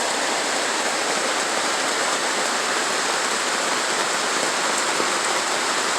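Steady rain falling on a greenhouse on a morning, a dense, even hiss of drops drumming on the roof that stays constant and fairly loud throughout, with no voices.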